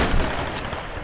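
A single sharp gunshot cracks loudly in the video game Tomb Raider (2013), followed by a brief rough echo that quickly dies away.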